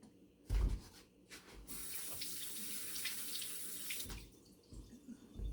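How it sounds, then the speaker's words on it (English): A kitchen tap runs as hands are washed beneath it while seasoning a whole chicken, a steady close splashing hiss lasting several seconds before cutting off, with brief clatters at either end. "And I'm going to keep washing my hands."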